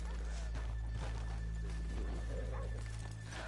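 Horses in the Red Dead Redemption 2 video game clip-clop along and whinny, steady hoofbeats under a low constant hum with no talking.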